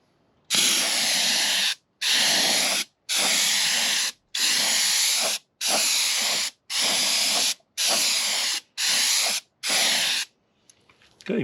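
Water-based spar urethane finish sprayed onto a routed poplar wood sign: nine loud, close hissing spray bursts of about a second each, separated by short silences, with no voices.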